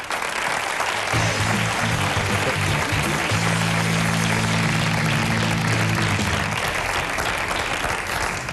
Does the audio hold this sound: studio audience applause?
yes